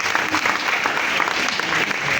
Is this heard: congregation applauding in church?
yes